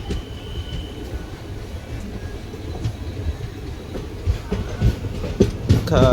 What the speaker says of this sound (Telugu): కరెక్ట్ 1 minute స్టాప్ తర్వాత మన ట్రైన్ మిర్యాలగూడ నుంచి బయలుదేరిపోయింది.